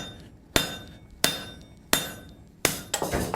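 Hand hammer blows ring out on hot H13 tool steel as a slitter is forged, four sharp evenly spaced metallic strikes with ringing decay, then a quicker flurry of lighter taps, close and loud.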